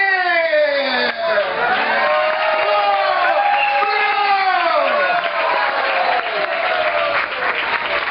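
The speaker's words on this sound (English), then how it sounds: "A round of applause for my 2-time travelers" Dense, loud applause and cheering from a magic show audience fills the whole stretch, with overlapping voices, whoops and shouts rising in pitch over the steady clapping.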